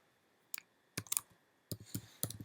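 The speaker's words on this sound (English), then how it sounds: "I'm just going to go ahead and type in" Quiet bursts of typing on a computer keyboard, a few separate clicks followed by quick clusters of keystrokes, close and isolated in a silent room.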